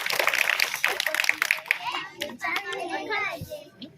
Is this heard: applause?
yes